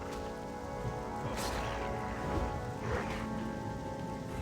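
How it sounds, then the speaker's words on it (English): Rain ambience in the Plaguelands zone of World of Warcraft Classic, continuous patter of raindrops with a couple of soft swelling gusts, steady and moderately loud, no talk. "it looks like it is now raining in the Plaguelands"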